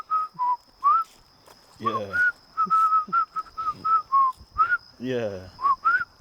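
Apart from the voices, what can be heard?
person whistling a song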